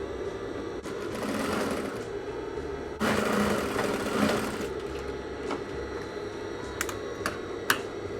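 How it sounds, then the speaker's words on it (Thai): Close sewing machine stitching on trousers with a hidden zipper pocket, running steadily throughout at moderate level, with a louder surge midway and a few sharp clicks toward the end. "เดี๋ยวเย็บก่อน"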